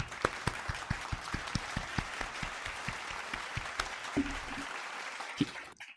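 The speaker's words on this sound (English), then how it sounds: "Let's give her a round of applause, everybody, for winning the game today." A small group applauds a teacher for winning a game on an afternoon talk show, with steady scattered claps for several seconds that fade out near the end.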